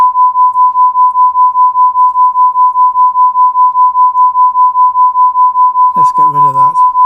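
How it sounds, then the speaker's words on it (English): Two summed sine waves form a steady tone near 1 kHz that pulses evenly in a regular amplitude-modulated beat from start to finish. A voice speaks briefly over it near the end. "It's the sum of 2 sine waves, but it's not really, but that's what it looks like."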